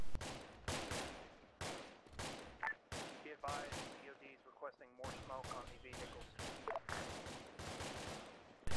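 Arma 3 military combat with repeated loud gunshots at close range, sharp separate reports spaced across several seconds, with a short quieter stretch in the middle where radio-style voices talk.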